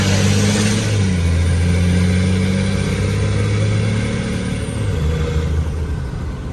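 A 12-valve Cummins diesel swapped into a C30 truck and running an open downpipe drones loudly and steadily with a deep low rumble, with engine pitch shifting slightly midway, no voices over it.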